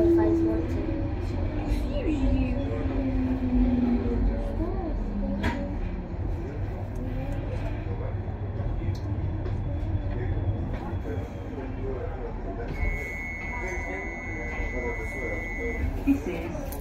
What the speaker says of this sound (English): This train is going fine.